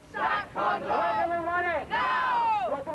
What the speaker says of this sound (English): The jeers and taunts of a hostile crowd were levelled squarely at Britain's most senior police officer.